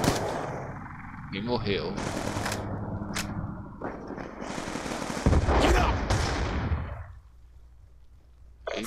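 Gunfire from the video game Black Ops 2, loud bursts of shots, some rapid and machine-gun-like, spread through the clip, with a short spoken remark near the end.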